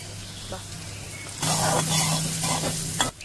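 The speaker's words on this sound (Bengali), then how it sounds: "মশলাগুলো তো সব ফ্রাই হয়ে গেছে" Turmeric and chili powder sizzle in a hot pan with oil for a chire pulao breakfast, a soft hiss at first that swells into loud steady frying with stirring scrapes, then cuts off abruptly.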